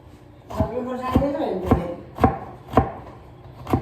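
A knife chops steadily on a board, six sharp, evenly spaced thuds close and loud, as vegetables are cut for homemade chowmein, with a faint voice partly under the opening chops.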